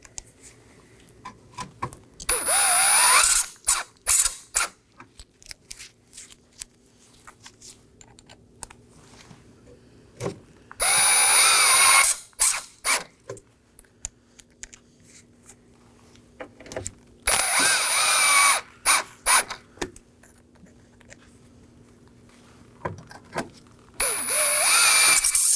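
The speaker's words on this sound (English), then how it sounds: "Now for our 6 T15 Torx screws on the grill. Let's make sure they're snug." A power drill drives six T15 Torx screws into the grille of a 2018-2024 Chevrolet Equinox, in four loud whirring bursts of a few seconds each, separated by quieter gaps with light clicks and handling noise.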